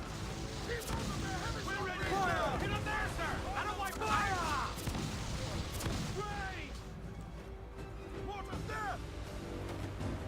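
Ship cannons firing in Assassin's Creed 4 Black Flag during a naval battle, heavy booms and crashing blasts rolling under excited voices and shouting throughout.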